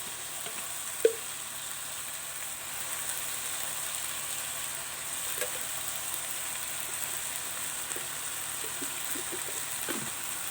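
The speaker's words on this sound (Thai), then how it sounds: "เราก็คนนะคะคลุกเคล้าให้มันเข้ากันนะคะ" Chicken basil stir-fry with oyster sauce and light soy sauce sizzles steadily in a pan, a constant hiss with soft stirring scrapes and a single sharp utensil knock near the start.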